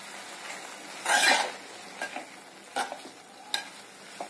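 A spoon stirs tomatoes and kokum in a pan, giving a loud scraping swirl followed by several short scrapes over a soft, steady sizzle, with no voices.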